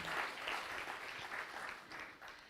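An audience at a youth forum session claps for the Vice Chancellor after a presentation, a fairly faint, even patter of many hands with slight swells and no voices over it.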